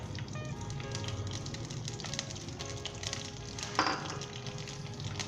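Vegetable oil heats in a cooking pot with a steady, soft sizzle and crackle that runs throughout, plus one brief louder hiss near the end.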